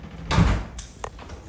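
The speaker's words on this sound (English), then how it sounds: "Let me close this door here." The door of a 1975 Toyota Land Cruiser FJ40 swings shut with one solid, close thud, followed by a couple of faint metallic clicks and light rattles.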